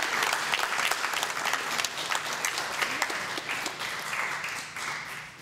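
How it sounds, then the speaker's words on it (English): A round of applause for Hall of Fame inductees at an athletic hall of fame anniversary event, dense clapping from a crowd that is loud at first and gradually tapers off. "put a big round of applause for all of them"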